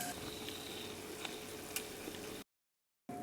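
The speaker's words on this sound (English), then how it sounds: "It's sizzling quite well right now." A steady crackling sizzle of food cooking under a high-heat oven broiler, with small pops, close by, cut by a short silent gap.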